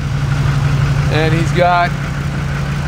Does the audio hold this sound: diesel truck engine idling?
yes